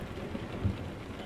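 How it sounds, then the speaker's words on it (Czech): Steady rain with a low rumble of thunder in Euro Truck Simulator 2, a truck driving through Romania on a country road, a continuous wash of rainfall with a brief deep swell partway through. "tady v Rumunsku máme zrovna déšť a hřmí"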